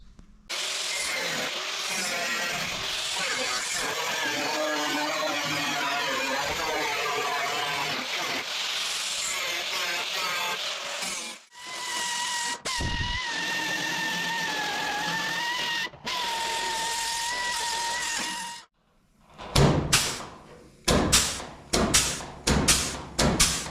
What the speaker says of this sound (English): I've just ran the flange tool down the side here just to make a step either side